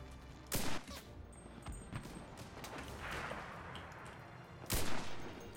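Gunfire in the World War II shooter game Enlisted: two sharp, loud shots several seconds apart over a low battlefield rumble, with a few fainter distant cracks in between.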